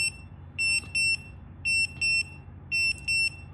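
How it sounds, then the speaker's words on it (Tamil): Emergency beep buzzer from a Portronics Worldtag tracker, sounding in paired shrill electronic beeps repeated three times at a steady rhythm over a low background hum, with no talking. "இதில் வந்து அந்த எமர்ஜென்சி பீப் பஸ்ஸர் வந்துட்டு ப்ளே ஆக ஆரம்பிச்சிடும்."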